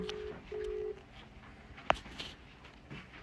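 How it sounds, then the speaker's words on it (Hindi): Two short electronic tones beep in sequence, like keypad dialing on a phone, followed by a faint click and quiet background noise. "मैंने कॉल तो मिला दिया एक दोस्त को"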